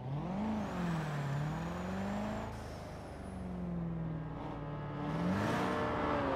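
A car drives in the racing video game Forza Horizon 3, its engine droning steadily with rising and falling pitch as it accelerates and shifts, continuous and fairly loud with no talking.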